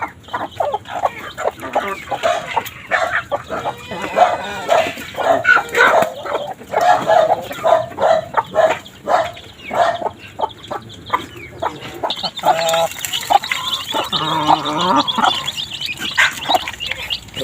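Rhode Island Red chickens and week-old chicks cluck and peep busily while feeding, with pecking and scratching nearby and a dog barking briefly among them.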